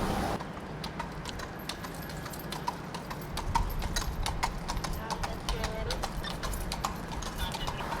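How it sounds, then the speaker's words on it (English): A police horse's hooves clip-clop steadily on a city street in Times Square, a continuous rhythmic clatter set in the busy ambience of the crowd and traffic. "The cop on the horse."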